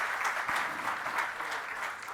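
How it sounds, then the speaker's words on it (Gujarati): Continuous audience applause at a corporate mutual fund event, many hands clapping at a steady moderate level with a few sharper claps popping out of the wash. "એક વખત જોરદાર તાળીઓ થઈ જાય."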